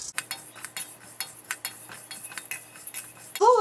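Urad dal dry-roasting in a kadai, a spoon scraping and clinking against the pan in steady irregular strokes, close and crisp, with a brief metallic ring at the end.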